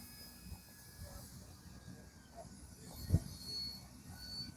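An E-flite Commander mPd RC plane flies slowly with full flaps on a morning flight, its motor a faint, steady distant drone under background noise with one brief bump.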